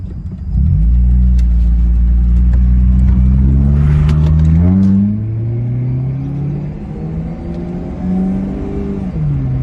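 An old 2001 Chevrolet Cavalier with badly underinflated tires drives along a rough road, its engine rumbling loud and close and climbing steadily in pitch through the gears with a whirring drone, no voices.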